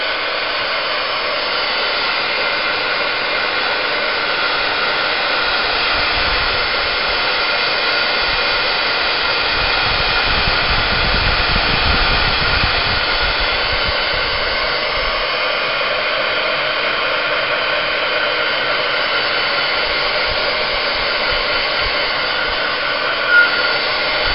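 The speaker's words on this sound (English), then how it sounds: "And I'm just going to take my heat shield." A heat tool blows hot air steadily to dry distress ink sprayed onto a paper craft tag, a continuous loud whirring blast lasting throughout with no talking.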